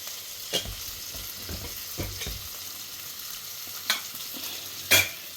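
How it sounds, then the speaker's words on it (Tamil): Boiled vegetables are stirred into onions frying in a pan for a vegetable stew. Soft sizzling runs underneath, broken by several close scraping stirs and a couple of sharper clatters. "இப்போ வேக வச்ச காய்கறிகளை இதோடு ஆட் பண்ணிக்கலாம்"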